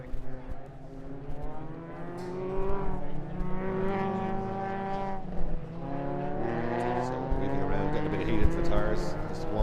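Ford Fiesta ST race cars on a warm-up lap, engines droning and rising through the gears with a steady harmonic whine, close and loud, under commentary.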